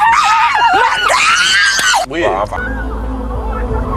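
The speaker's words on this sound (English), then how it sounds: "Why are they screaming?" People screaming loudly and close up in a reality TV dating show, several shrill overlapping shrieks that rise and fall for about two seconds, then give way to a lower rumble and muffled voices.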